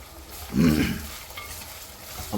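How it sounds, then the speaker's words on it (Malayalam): Chopped ginger and garlic stirred in a pan while making a ghee fish pickle, giving a brief scraping swirl with soft sizzling that swells then fades, close and moderately loud. "ഇനി ഇളക്ക്"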